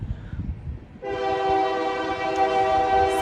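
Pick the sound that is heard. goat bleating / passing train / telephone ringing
passing train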